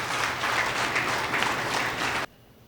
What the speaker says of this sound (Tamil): ஒரு கைத்தட்டல் கொடுத்து நமக்கு.